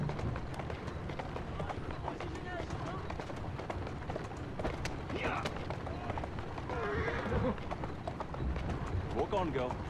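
Horse hooves clip-clop at a run in the video game Assassin's Creed Syndicate, a steady close rhythm under continuous game ambience with a voice talking over it.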